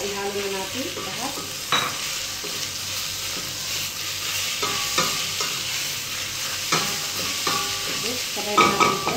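Carrots, tomato, onion and garlic sizzle as they are stirred in a hot pan, with repeated scraping strokes of the utensil over steady frying, close and without talk.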